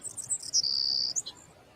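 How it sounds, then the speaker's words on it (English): High, bright bird chirps and a sustained trilling call, fairly close and clear over a quiet background, with no talking. "You hear the birds chirping, y'all?"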